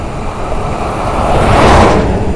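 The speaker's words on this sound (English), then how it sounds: "Truck." A truck passes on a road beside a cyclist, its broad rumble swelling over steady wind noise and peaking near the end, fairly loud and close.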